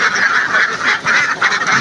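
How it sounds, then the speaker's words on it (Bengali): Farm ducks give loud, close, honking quacks in a rapid repeated chorus that goes on without a break. "আমার খামারের হাঁসগুলো আপনারা দেখেন"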